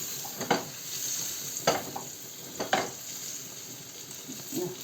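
Steady sizzling of fish frying in hot oil, with a few sharp pops and spatters rising above the continuous crackle.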